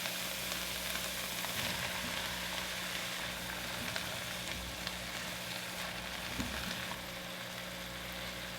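A steady dense sizzle fills a hot pot as four chopped potatoes go in, a constant close frying hiss with a few soft thuds and stirring shifts, no voices.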